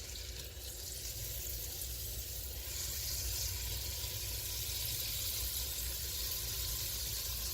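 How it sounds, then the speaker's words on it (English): Butter melting in a pan gives a steady, faint sizzle with a soft hiss that holds evenly throughout, no voices. "So I'm going to melt this butter up."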